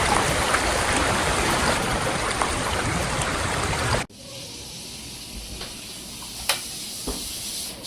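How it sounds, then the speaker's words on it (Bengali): Water gushes steadily from a suddenly opened tap, a loud broadband hiss and splash that cuts off abruptly halfway, leaving a quiet room with faint scattered clicks. "কলটা কি করে খুলে গেল?"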